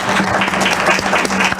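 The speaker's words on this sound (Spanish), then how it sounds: "Démosle un aplauso." Loud, close audience applause at a Spanish-language expert panel on economic and market conditions, a dense burst of many hands clapping continuously with no break.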